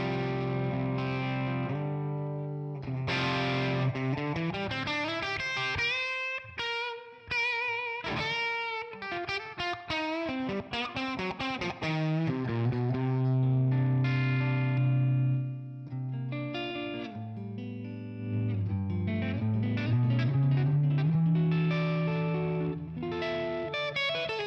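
Electric guitar played through a Tonex One boutique amp model, distorted chords and single-note phrases with sustained notes, bends and brief pauses, loud and alone with no talking.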